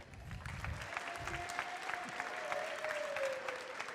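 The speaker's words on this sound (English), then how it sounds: "Let's give all of our seniors here at Harrisonville High School a big round of applause." A crowd at a Harrisonville High School basketball game applauds the seniors with sustained, even clapping from a gym audience, while a faint tonal whistle or squeak drifts underneath.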